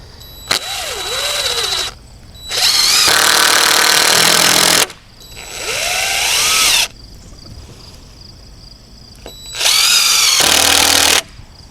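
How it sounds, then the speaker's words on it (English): A power drill driving screws into the wooden frame of a chicken tractor for broilers, loud and close, in three long whirring bursts that rise in pitch as the motor spins up, with short quiet gaps between them. "I'll go ahead and get this fastened in with a couple of screws."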